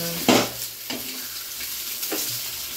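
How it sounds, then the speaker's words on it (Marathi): Egg chutney fries in an iron pan, a soft sizzle broken by a few scraping stirs of the spatula, close and moderately loud, with no voices. "तर मस्त अंड्याची चटणी बघा बनते आता. आणि ह्याला व्यवस्थित तव्यामध्ये लोखंडाचा तवा असल्यामुळे मस्त छान चटणी होती भाकरीला."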